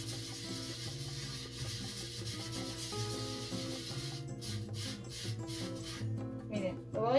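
A copper pot is scrubbed clean with Valentina hot sauce, giving steady close rubbing and scouring with rhythmic strokes that grow choppier toward the end, while a voice speaks over it.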